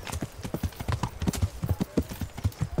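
Horse hooves clip-clop steadily in Kingdom Come: Deliverance, a brisk rhythmic run of hollow thuds close up, with a faint whinny-like tone woven in.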